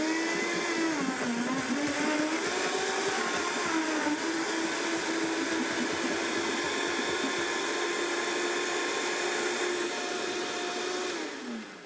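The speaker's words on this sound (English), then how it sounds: "So I'm going to just put about half this milk in, blend it." A kitchen blender purees milk for sweet potato oat pancake batter, giving a loud, steady, close whir that runs continuously for about twelve seconds, with a slight wavering pitch, and then winds down at the end.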